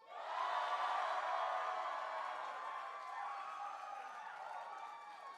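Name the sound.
audience cheering for Greggs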